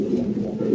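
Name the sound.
fancy pigeons cooing on a farm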